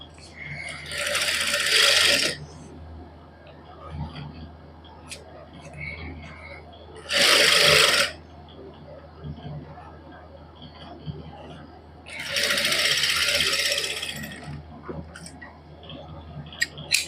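A sewing machine stitches a salwar seam at the corner in three separate bursts of rapid whirring, each lasting one to two seconds with quieter handling sounds in between.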